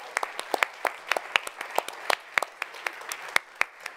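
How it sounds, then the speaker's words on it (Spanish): A church congregation claps in quick, sharp bursts, the claps clear and fairly close, forming a steady rhythmic round of applause. "Un aplauso al Señor."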